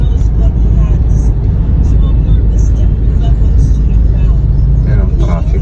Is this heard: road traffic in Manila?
yes